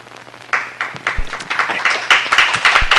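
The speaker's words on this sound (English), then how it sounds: "Please hold your applause." An audience at a city Public Works and Gang Reduction Committee meeting claps loudly and steadily for several seconds, a dense patter of many hands close by.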